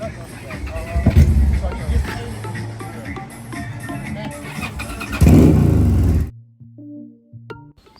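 A group of motorcycles rides together along curvy roads toward a food truck festival, engines droning and revving loudly with voices mixed in for about six seconds before the noise suddenly drops away.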